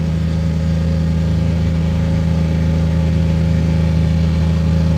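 A steady engine idles at a constant low rumble throughout, loud and close, with no change in pitch or rhythm.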